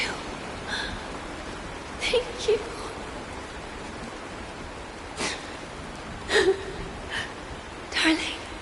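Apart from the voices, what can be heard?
rain falling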